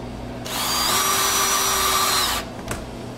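A power drill drives screws into a screw-in refrigerator door gasket on a Randell refrigeration unit, one steady whirring run of about two seconds, close and loud, followed by a brief click.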